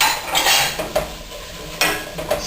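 Mushrooms and sun-dried tomatoes being stirred in a pan, with a utensil scraping and clinking against the metal at close range in uneven strokes and a faint sizzle beneath.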